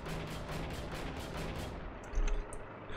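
Repeated cannon fire from an SdKfz 222 armored car in the video game Heroes & Generals: about eight evenly spaced autocannon shots in a steady rhythm, then a short heavier rumble, with no talking.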